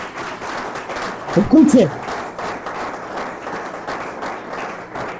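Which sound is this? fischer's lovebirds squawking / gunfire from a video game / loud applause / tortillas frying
loud applause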